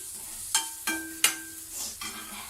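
Chilli chicken fries in a pan with salt added, and a few sharp spatula scrapes and clacks come over a soft, low sizzle in a brief, close burst.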